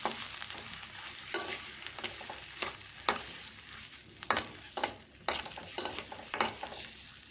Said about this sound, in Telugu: ఎగ్స్ని ఇలాగా ఆయిల్లో వేయించుకొని తీసి పక్కన పెట్టుకుందాం